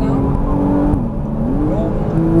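A Porsche Cayman S engine accelerates on a race track, heard from inside as a steady, loud drone whose pitch dips and then climbs again as the car pulls hard.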